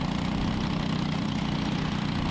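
Ten-horsepower racing kart engine with a top speed of about 7,000 RPM, a 206 class kart on a race track, runs at a steady, loud, buzzing drone throughout.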